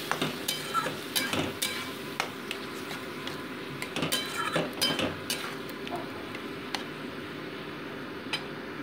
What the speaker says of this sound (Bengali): এটাকে মোটামুটি আমি 2 মিনিট কষিয়ে নিচ্ছি।